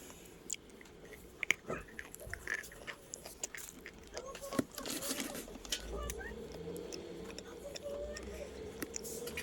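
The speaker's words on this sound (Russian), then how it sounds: "Хрустит глухо." Close, soft, dull crunching and chewing of smooth, brown, dense clay, irregular and muffled, with occasional sharper clicks over a quiet background.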